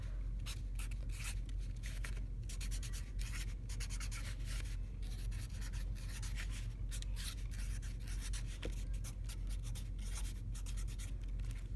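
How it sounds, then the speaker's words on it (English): A pen writes a message on a gift tag for a wrapped holiday tile gift, producing close, quiet, continuous scratchy strokes in quick irregular bursts with no talking. "then you can write your message"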